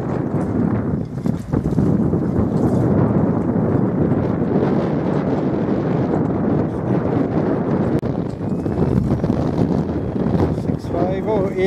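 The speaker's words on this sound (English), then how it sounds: "I'm here now by the coast, overcast, but there's a bit of wind coming." Steady, heavy wind buffets the microphone on an overcast coast, a constant loud rumbling roar that barely changes over the whole stretch.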